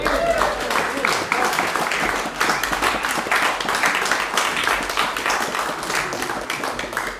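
A live music venue audience applauds a trio after their performance, a dense, steady wash of clapping lasting several seconds with faint crowd noise mixed in.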